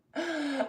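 A single deep inhaling breath taken during a yoga stretching routine, close and fairly loud, a steady airy draw lasting under a second with a slight catch near the end.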